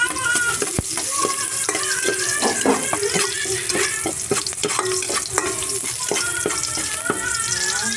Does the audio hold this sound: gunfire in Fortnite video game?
no